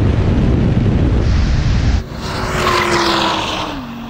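Porsche Cayenne GT and Audi R8 drag racing: a loud, steady engine roar with heavy wind buffeting that suddenly drops away, leaving a rising engine whine and tire or road noise as the cars pull off.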